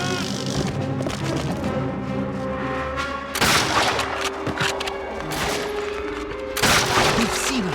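Gunfire in the video game Call of Duty: Finest Hour, with sharp shot bursts at about 3.4 and 6.6 seconds over a continuous layer of orchestral music and battle noise.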